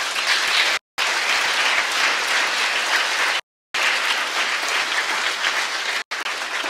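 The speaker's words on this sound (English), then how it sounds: "and a round of applause particularly for Georgina." An audience at the National Equine Forum bursts into sustained applause, dense and loud, with brief cuts in the sound and no talking.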